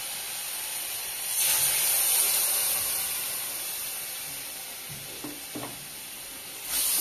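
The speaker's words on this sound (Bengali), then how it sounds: "এবার কাজু, কাঁচা লঙ্কা এবং টমেটোর পেস্টটা দিয়ে দেব।" Spice paste of cashew, green chili and tomato goes into a hot pan for a bengun sundari eggplant dish, giving a steady loud sizzle and hiss that swells briefly and continues under light stirring, with no talk.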